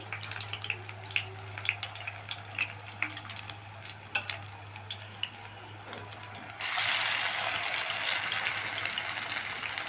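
Potatoes frying in hot oil in a pan, with steady crackling and popping that grows into a louder, denser sizzle partway through.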